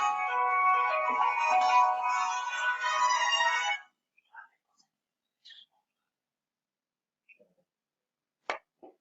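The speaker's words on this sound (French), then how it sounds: "il y a mon téléphone qui sonne." A mobile phone rings close by, a bright melodic electronic ringtone lasting several seconds that cuts off abruptly, followed by near silence with a few small clicks and taps.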